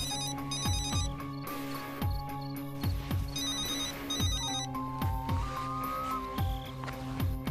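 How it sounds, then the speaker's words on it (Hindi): A telephone rings with a melodic electronic ringtone over a steady beat, repeating its tune at a moderate level in a drama scene. "काफी देर से ये फोन बज रहा है मगर हमने नहीं उठाया सर।"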